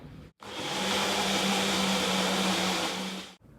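A blender grinding peanuts runs steadily at high speed for about three seconds, a dense grinding whir with a steady hum, starting and stopping abruptly.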